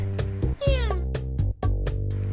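A black cat meows in the game Dandelion, a single rising, drawn-out mew near the middle, set against a steady looping music bed with regular soft beats.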